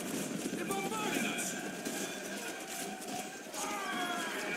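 Horses gallop in a Middle-earth strategy video game, a dense rumble of clip-clopping hooves running steadily through the clip alongside battle noise, with someone speaking over it.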